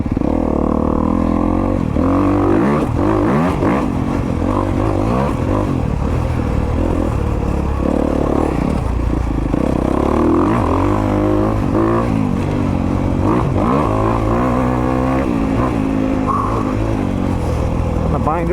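A 2022 Honda CRF250RX dirt bike engine, heard while riding, roars loud and close throughout, rising and falling with throttle and gear changes; wind rush and a voice sit partly under it.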